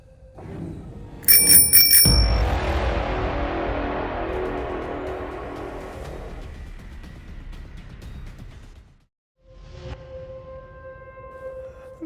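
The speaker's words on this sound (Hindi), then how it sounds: "अगर तेरे को ऐसा लगता है ना तो एक बार दोबारा घंटी बजा।" A bicycle bell rings sharply with a few quick strikes near the start, followed by a long swelling rush of noise that slowly fades, then another faint ringing tone returns near the end.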